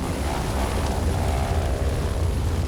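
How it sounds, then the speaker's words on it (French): A firefighting helicopter circles a forest fire near the Étang de Berre, heard as a steady, loud low rotor and engine drone that holds unbroken from start to finish with no voices. "L'hélicoptère fait un premier tour de l'incendie pour repérer les lieux et part au pompage dans l'étang de Berre"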